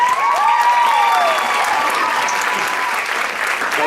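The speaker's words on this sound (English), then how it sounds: "Let's give them one more round of applause." Loud, dense audience applause for contestants at a county womanless beauty pageant, an unbroken wash of clapping close by that holds steady for the whole stretch, with a faint whistle or cheer near its start.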